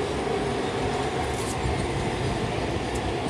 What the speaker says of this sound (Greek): Ω, τρένο.